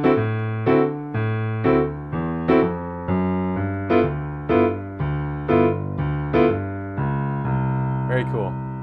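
Jazz piano playing a rhythm changes bridge, the left hand walking a steady bass line under right-hand chords with a ninth, evenly spaced struck notes that ring and decay, played alone without talk.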